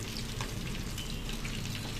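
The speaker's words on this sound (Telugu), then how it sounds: "మనం బాగా ఆయిల్ మరిగాక వేసుకొని చేపలు మనం మీడియంలో పెట్టించుకోవాలండి" Vanjaram fish pieces fry in hot oil in a kadai over a medium flame, giving a steady, dense crackling sizzle that holds evenly for the whole moment with no voices.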